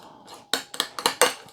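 A spoon clinks and scrapes against a bowl while honey mustard mayonnaise sauce is stirred, giving several sharp, close taps in an uneven rhythm.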